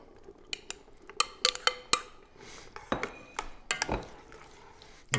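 Egg noodles stirred into a cooking pot of beef stroganoff, heard as a run of sharp utensil clinks and scrapes against the pot with soft stirring noise between, close and fairly quiet.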